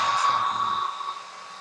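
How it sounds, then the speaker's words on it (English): A hair dryer blows steadily on warping paper, a loud close whoosh that eases slightly toward the end, with no talking. "Okay, time for the hairdryer."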